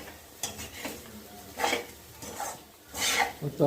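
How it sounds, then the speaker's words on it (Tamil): A spoon scrapes and stirs beans and lentils in a metal pan, giving several rough rasping strokes with light clinks, fairly close and loud, with no talking. "அந்த பீன்ஸையும் போட்டுருக்குள்ள பட்டு சேர்த்து நல்லா பரட்டி விட்டுடுங்க"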